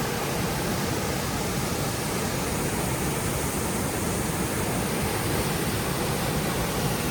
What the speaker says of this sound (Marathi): वरनं पाणी येत आहे.